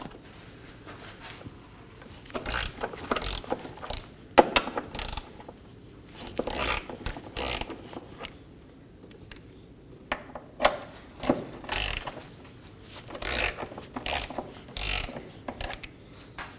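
Ratchet wrench clicking in repeated bursts while breaking loose 17mm bolts on a 2018-2024 Toyota Camry rear trailing arm, close and crisp, with pauses between each series of clicks.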